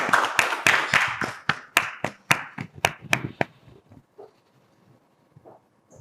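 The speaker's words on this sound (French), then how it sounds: "On applaudit en attendant." A few audience members clap together in a quick, sharp rhythm that slows and thins out, followed by faint murmurs and quiet.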